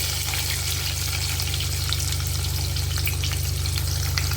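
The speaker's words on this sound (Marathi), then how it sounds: "आता याच्यामध्ये आपल्याला उभा चिरलेला कांदा घालायचा आहे।" Sliced onions fry in hot oil with cinnamon, bay leaf and curry leaves for vegetable pulao, a steady, dense sizzle that holds evenly throughout with faint clinks, no voices.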